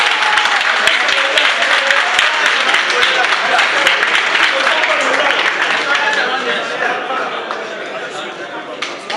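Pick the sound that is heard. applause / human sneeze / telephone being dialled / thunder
applause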